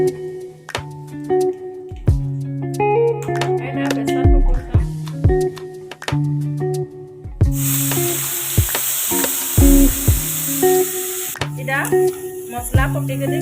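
Bay leaf and spices sizzle in hot oil while a country-style chicken curry is being made. A loud, steady frying hiss rises midway for several seconds, with a person talking before and after it.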